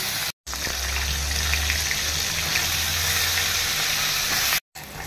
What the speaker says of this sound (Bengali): তারপরে ফুলকপিগুলো ভেজে নিচ্ছি।